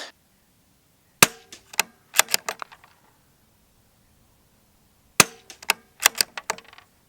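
Two quick bursts of sharp mechanical clicks from a CZ 457 rimfire bolt-action rifle being dry-fired, each a short cluster of crisp, close clacks and snaps with silence between.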